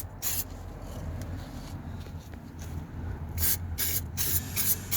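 Underbody protection sprayed beneath a Ford Focus MK1, gearbox included: a close, steady hiss of spraying with louder bursts near the end, no talking.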